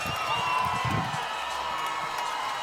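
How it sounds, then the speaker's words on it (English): Arena crowd on its feet cheering after a stoppage at a Fierce Fighting Championship MMA bout, a steady roar of whoops and applause with a voice briefly audible over it. "The crowd is on their feet."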